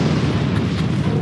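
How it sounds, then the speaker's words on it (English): A dense, rumbling burst that fills the whole moment, loud and sustained like a comical blast. "Speaking of explosions."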